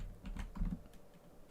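Keystrokes on a computer keyboard, picked up by a microphone whose wire lies right over it: a short burst of soft, irregular clicks close to the mic with a low background hum.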